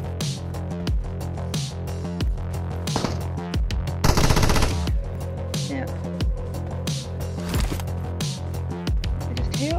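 Gunfire in the video game PUBG Mobile, with rapid automatic bursts and single shots that come loud and repeated, one dense volley in the middle, over game sounds.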